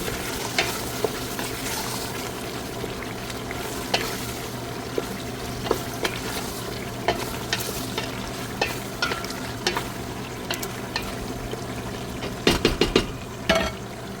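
Chicken biryani mixture with turmeric is stirred in a sizzling pan, with repeated scrapes and clinks over the steady frying and a quick burst of knocks near the end, and no voices.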